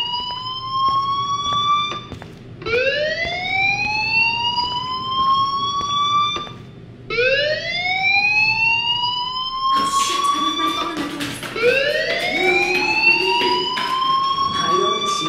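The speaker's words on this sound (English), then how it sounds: "do you hear that fire alarm?" A fire alarm in the video game Life is Strange wails in repeated rising sweeps, each a few seconds long, loud and continuous, with a brief voice or noise layered in partway through.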